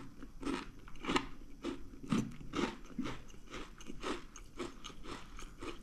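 Crunchy homemade Christmas cookies bitten and chewed close to the microphone, a quick, regular series of sharp crunches and crackles with almost no talking.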